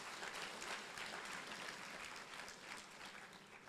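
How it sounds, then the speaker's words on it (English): Applause for the Prime Minister at a 2022 renewable energy conference: a dense, even wash of many hands clapping, soft and somewhat distant, holding steady and easing slightly toward the end. "let's clap for the Prime Minister"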